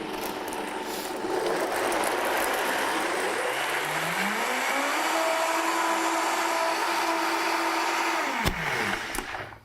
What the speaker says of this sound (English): one more time in the blender.